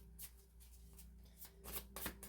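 Cards are shuffled by hand with soft riffling flicks, quiet and close. They slip a little, and the ruffling grows busier and louder in a burst near the end.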